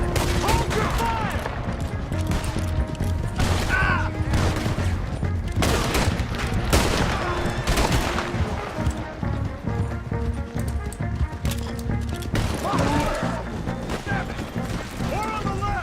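A Red Dead Redemption shootout: rapid gunfire with horses' hooves clopping, loud and dense throughout, shots coming in bursts over game music and shouting voices.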